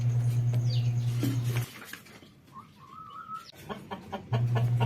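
Backyard chickens cluck and call around a low steady hum, with a higher squeaky cry in the middle and scattered short clucks close by.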